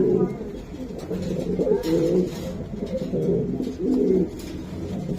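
Bombay pigeons, a male and female pair, cooing close by in soft low repeated rolling coos, with someone speaking over parts of it.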